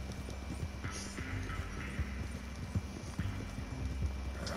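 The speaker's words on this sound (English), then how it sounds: "Get on the horse, Grace!" Horse hooves clip-clop in Red Dead Redemption 2 Online, a steady quick rhythm of soft thuds under a faint background hum, with no talking.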